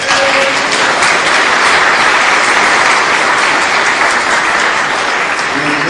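A large lecture-hall audience breaks into loud, dense applause that runs steadily from start to finish, a continuous wash of many hands clapping with no voices rising above it.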